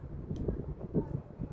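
Wind buffets a microphone outdoors in uneven, rumbling gusts with low thumps and a brief crackle, loud and close with no clear voice.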